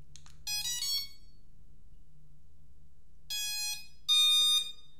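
Startup tones from an FPV military drone's ESC and flight controller: a quick rising run of electronic beeps, then after a pause two more clear, loud beep tones, over a low steady hum.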